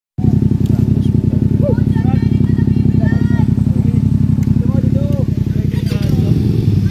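A new motorcycle's engine idles and runs steadily up close with a continuous rumbling throb, while people talk over it.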